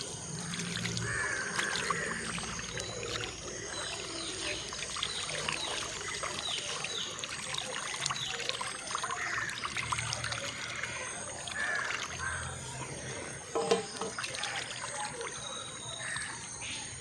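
Karimeen fish being rinsed under running water in a kitchen: a steady, faint trickle and splash runs throughout, with a slight knock near the end.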